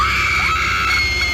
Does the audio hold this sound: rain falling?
no